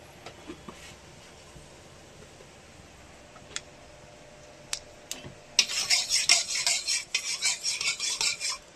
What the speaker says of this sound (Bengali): দিয়ে দিয়েছে শুকনো লঙ্কা ফোড়ন, একটু সর্ষে ফোড়ন দিচ্ছে